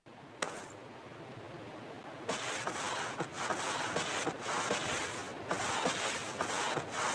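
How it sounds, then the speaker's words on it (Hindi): Continuous scraping and rustling with irregular bursts as a prone player crawls along the ground in PUBG Mobile, fairly close and with no speech. "प्रोन होके जब बंदा हिलता है तो कुछ ऐसी आवाज आती है।"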